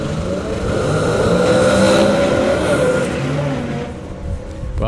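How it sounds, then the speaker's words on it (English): Drag racing cars at a Summer Nationals meeting roar down the track in a loud, sustained engine howl that swells and slowly fades as they pull away, with no talking. "Dave Barton is the last remaining one to get down the track, which hopefully he will do now."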